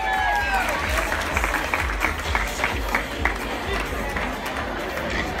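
Audience applause for the directors at a fashion high tea show in Zen Gardens, a dense, steady crowd clapping with murmuring and some cheering, continuous at full strength throughout.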